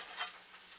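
Pork chops lowered into hot oil for Southern deep frying give a brief, faint hiss and bubbling crackle, with one soft bump as they go in.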